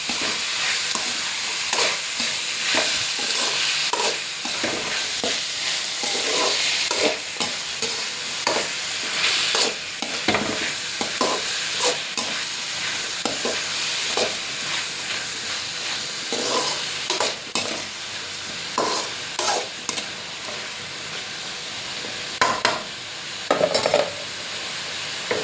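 Chopped capsicum fries in a pan, a continuous sizzle broken by repeated scraping and clinking strokes of a spoon stirring, close and steady with no voices.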